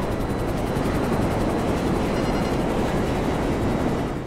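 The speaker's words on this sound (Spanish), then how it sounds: "Me dispara el helicóptero." Helicopter from GTA V Online gameplay during a police chase, a steady loud rotor and engine roar filling the whole stretch with a faint rhythmic chop, no voices.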